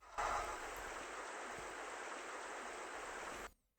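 Looping water sound effect from a Tomb Raider level editor, a steady rushing stream-like wash that plays evenly for about three and a half seconds, then cuts off abruptly.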